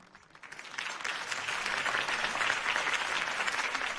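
A crowd in the video game Batman: The Telltale Series claps steadily, the applause building from a quieter start to a full, sustained ovation heard at a distance.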